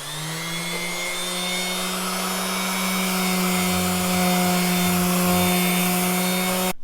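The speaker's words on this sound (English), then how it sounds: "when you sand it, it powders up beautifully." Sealer coat on a wooden guitar body from a BC-style kit is sanded in a steady, continuous rasping stroke close by, with a low hum underneath and no voices.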